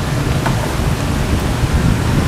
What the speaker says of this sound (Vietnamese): Mưa kìa.